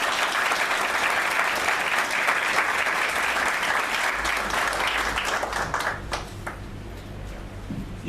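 Applause at a town hall wedding ceremony, a dense sustained burst of clapping from the gathered guests that fills the room, then thins and fades out toward the end.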